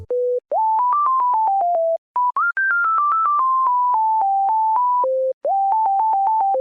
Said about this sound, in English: a programmed a sine wave, and then I went off making a cutesy uplifting melody.